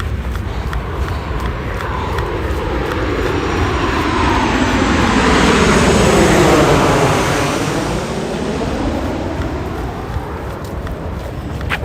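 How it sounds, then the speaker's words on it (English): An airplane passes loudly overhead during a night run, its engine roar swelling to a peak near the middle and then slowly fading, steady and dominant throughout. "Planes are loud."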